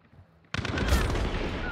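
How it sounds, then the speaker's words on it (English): Video game gunfire erupts suddenly after a quiet moment, a loud, close burst of rapid shots that carries on with rumbling echoes. "he shot me"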